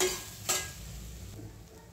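Grated coconut and khoya being stirred in a pan for modak filling, a soft scraping and faint sizzle with one brief metallic clink, quiet and close.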